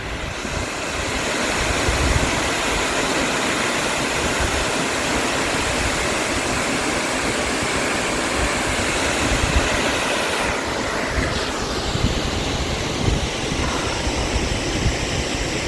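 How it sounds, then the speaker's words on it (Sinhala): Water from the Gabaravila plain drops down a forest waterfall near a reservoir, filling the whole span with a loud, unbroken roar of crashing water heard close to the falls. "මේ ගබරවිල තැන්නෙන් ඇදගෙන වැටෙන වතුර"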